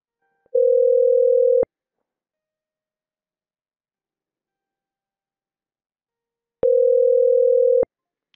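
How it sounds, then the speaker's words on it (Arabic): Telephone ringback tone from an outgoing call to a call-centre line, two long steady electronic tone bursts about a second each, separated by several seconds of silence, clear and loud with no talk. "رح نعمل اتصال"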